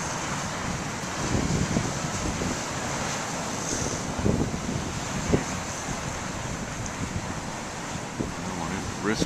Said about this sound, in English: The wind's a real pain, but it stirs up the waves.